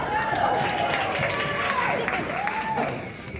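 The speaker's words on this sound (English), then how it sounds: "So give her a big round of applause." Dense audience applause fills a variety show venue, steady and close for a few seconds, with a faint voice rising over the clapping.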